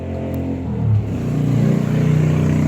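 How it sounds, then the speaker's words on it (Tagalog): A motorcycle engine drones close by, its low rumble rising and steadying as it passes, loud and continuous with no talk over it. "Ingay ng motorsiklo"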